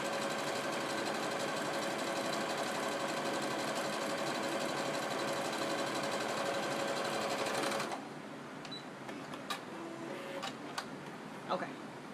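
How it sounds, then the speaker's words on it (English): A sewing machine runs a straight stitch across fabric with a steady, close, fast-running whir that stops abruptly partway through, followed by faint clicks and handling noises. "so we're going to do our 3rd straight stitch"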